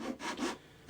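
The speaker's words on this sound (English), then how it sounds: "I just line up my Zona saw to that line" A Zona saw cuts through plywood in quick back-and-forth strokes, three or four rasping passes that sit close and clear, with no talk over them.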